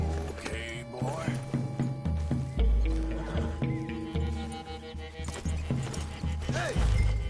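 A horse gallops in a video game, its hooves clip-clopping rhythmically and steadily up close. A snort or whinny cuts in partway, and a musical score with game voices plays underneath throughout.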